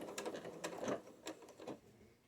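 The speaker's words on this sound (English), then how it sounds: "And then give it a back stitch." A sewing machine runs a back stitch on a water bottle sling bag, a few short quiet mechanical bursts of needle clatter with brief gaps between them, close and soft.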